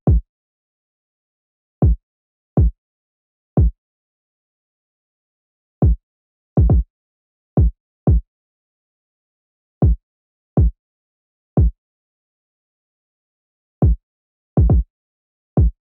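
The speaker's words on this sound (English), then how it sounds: "So I just put in this very simple kick pattern that just added the bounce to the beat as well as the hi-hats." Sparse electronic kick drum pattern for a type beat, punchy booming hits in a bouncy uneven rhythm, some doubled, with short bright tops and silence between, no other instruments.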